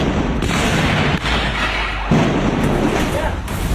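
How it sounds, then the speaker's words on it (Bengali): Repeated gunshots ring out during street clashes between police and protesters in Bangladesh as tear gas is fired, a few sharp bangs rising out of a constant noisy crowd din. "পরপর গুলির শব্দ, ছোড়া হচ্ছে কাঁদানে গ্যাস।"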